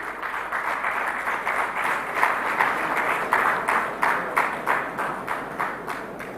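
An audience at an India Maritime Week MOU exchange in Mumbai gives sustained applause, with crowded clapping that swells with a faint steady rhythm and holds throughout, with no talk.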